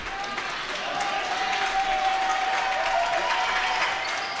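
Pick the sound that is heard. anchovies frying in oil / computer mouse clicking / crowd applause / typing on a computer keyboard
crowd applause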